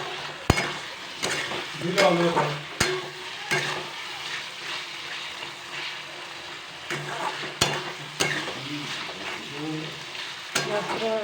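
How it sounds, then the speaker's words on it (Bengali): Mushroom masala sautés in a pan, with an ongoing sizzle broken by rhythmic stirring and scraping and sharp clinks of a utensil against the pan. "পুরো এখন 10 মিনিটের মতো এটিকে ভালো করে কষিয়ে নেব"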